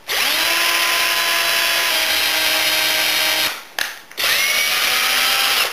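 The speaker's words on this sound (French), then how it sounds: "j'ai équipé ma visseuse d'une mèche à bois de diamètre 8" A cordless drill fitted with an 8 mm wood bit whines at high speed as it bores into green wood, pausing briefly before spinning up again for a second burst.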